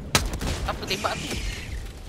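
Gunfire bursts from the video game Helldivers 2, a sharp shot followed by rapid crackling fire and booms over about two seconds, loud and close.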